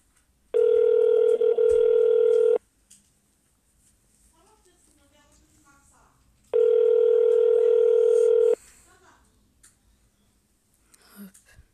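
Telephone ringing tone heard during an outgoing call, two long steady electronic rings separated by a few seconds of quiet, with soft voices and breathing in the gaps.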